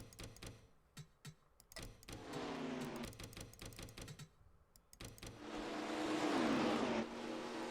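Replayed final lap of a simulated NASCAR Cup Series race at the Dixie Vodka 150 in the NR2003 game: buzzing race-car engines whine past in repeated short bursts, with rising and falling pitch as cars pass, louder sustained roar near the end.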